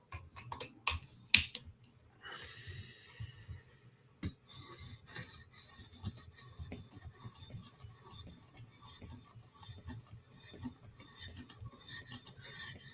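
Steady scraping rasp of a knife blade stroked across an 800 grit whetstone, close and continuous with even back-and-forth rhythm, after a few sharp knocks and a short pause at the start.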